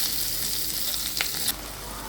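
A ginger and green chilli paste hits a hot mustard seed tempering with asafoetida for a brinjal curry, sizzling loudly and steadily with a brief stirring clatter near the end.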